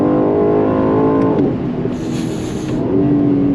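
Aston Martin DB12 Volante convertible with a twin-turbo V8 pulls hard under throttle, its loud engine note climbing in harmonic sweeps, easing off around the midpoint with a crackle, then building again near and steady.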